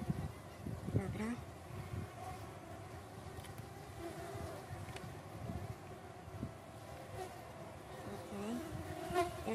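A steady, close buzzing of many Caucasian honey bees droning continuously at a hive during a December inspection, with occasional voices and handling noises over it.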